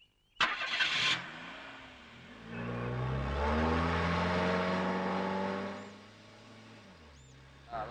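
A vehicle engine catches after a brief starter crank, then settles into a steady mid-pitched run that swells for a few seconds before easing off, close by with no talk.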